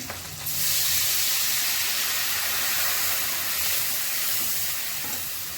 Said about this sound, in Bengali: নুন দিচ্ছি, জল দিয়ে দিচ্ছি।